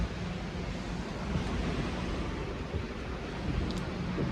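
Sea waves on the Odessa seashore on a calm, windless day, heard as a steady, even wash of surf close by with no single crashing breaker standing out, alone without voices.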